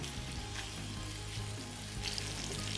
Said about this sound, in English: It's going to fry itself in its own juices.